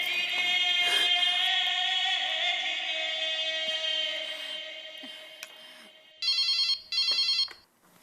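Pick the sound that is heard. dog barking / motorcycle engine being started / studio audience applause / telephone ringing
telephone ringing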